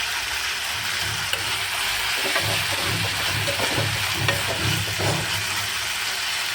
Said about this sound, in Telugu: మళ్ళీ ఫ్రై చేసుకున్నాము